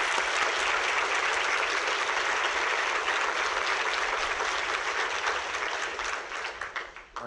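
A conference audience gives sustained, dense applause for environmental speaker Alexandra Cousteau. It holds steady and loud, then thins and tapers near the end.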